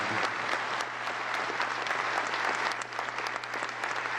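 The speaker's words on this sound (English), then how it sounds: "maybe we could give them a round of applause for their service to the country" At a university speaking event, an audience gives a round of applause for military veterans, a steady, even wash of clapping that continues for several seconds at moderate distance, with a low hum underneath.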